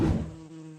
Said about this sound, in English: I'm not a fan of the buzzing